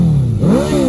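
A Kawasaki ZX10R with its stock exhaust revs loud and close, the engine note dipping and then climbing again in a throaty, continuous roar.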